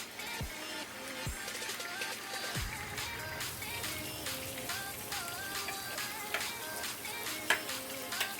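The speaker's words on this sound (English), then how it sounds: "I fried some tomatoes, red pepper" Tomatoes and red pepper fry in oil with a steady, crackling sizzle that runs throughout, with a few soft stirring knocks near the start.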